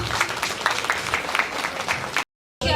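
An audience claps in dense, continuous applause at a Malayalam film event for the movie Pooja, steady and fairly close, broken by a brief silent gap near the end before it resumes.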